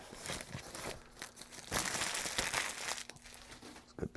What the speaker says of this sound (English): good paper crunching noise in there